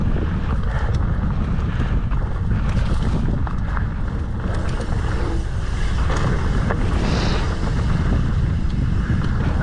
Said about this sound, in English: there's a interesting headwind coming from the east. Pretty strong one too.